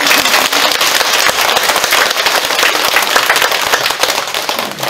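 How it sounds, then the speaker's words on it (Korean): Loud, close applause from a temple congregation during a Buddhist Dharma service at Samgaksan Samcheonsa, many sharp claps merging into a dense, sustained burst with no talk. "박수 쳐주면 치고."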